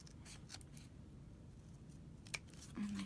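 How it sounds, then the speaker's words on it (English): Scissors snip the paper edges of a scrapbook-style book, giving a few faint, quiet cuts against a soft background hiss, with one crisper snip standing out. "just take your scissors, because otherwise it'll just tear your book all to crap, and snip it off right around the page"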